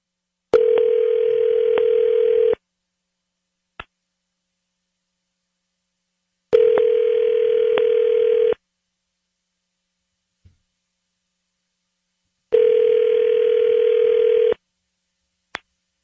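A telephone ringback tone plays in three long, steady buzzing bursts of about two seconds each, separated by silent gaps of several seconds, with faint clicks in between and no voices.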